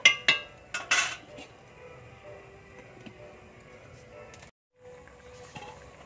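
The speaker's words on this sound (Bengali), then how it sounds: "এবার চাপা দিয়ে দেব।" A lid is set onto a pot of cauliflower curry, a few sharp metallic clinks and clatters at the start, then a low simmering bed with faint knocks.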